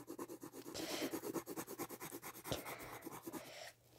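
A blue colored pencil scribbles across paper in quick, steady back-and-forth strokes, a close, rhythmic rasping rub that continues for several seconds before stopping.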